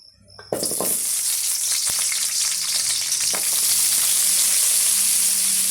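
Small onions, garlic and curry leaves dropped into hot oil for a garlic medicinal kuzhambu, bursting into a loud, close, continuous crackling sizzle after a brief quiet start.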